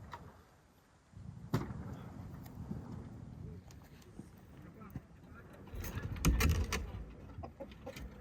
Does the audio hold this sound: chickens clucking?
yes